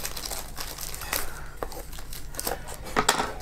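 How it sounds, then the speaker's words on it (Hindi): Scissors cut open the plastic packaging of budget i12 wireless earbuds, giving irregular crinkly snips and rustles with sharper clicks near the end, close up and without talk. "कैंची से काट लेते हैं इसको।"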